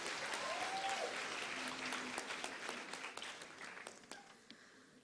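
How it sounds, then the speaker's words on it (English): A round of applause from the audience at a university graduation ceremony in Windhoek, a dense burst of clapping that thins into scattered individual claps as it dies away over five seconds. "Can we give them a round of applause?"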